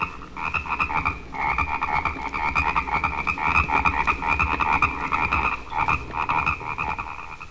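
Frogs croak steadily at a night-time pond, a dense chorus of overlapping rhythmic calls that stays loud and continuous throughout, with no voices.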